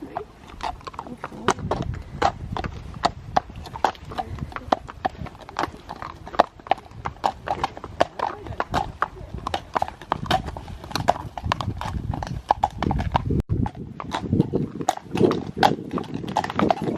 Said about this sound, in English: Is he an affectionate horse?